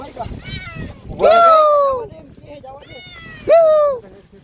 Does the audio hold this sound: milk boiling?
no